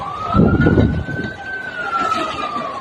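Fire engine siren wailing at a slum fire beside a railway track, a steady rising-and-falling tone that sounds moderately distant over a noisy outdoor scene with crowd and traffic rumble.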